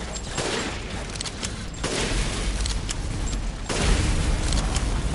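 Dense, loud volleys of gunfire aimed at a target during a Resident Evil Village boss fight, a continuous broadband barrage with sharp jumps in intensity.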